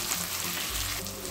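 Chopped tomato with onions frying in a pan for a Bengali-style mutton curry, a steady close sizzle with soft stirring, with no talking.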